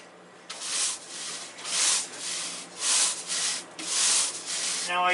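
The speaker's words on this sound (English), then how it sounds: "I'm going to brush the log off a little bit." Rhythmic scratchy brushing strokes against a log's rough bark, close and fairly quiet, repeating in a steady back-and-forth pattern.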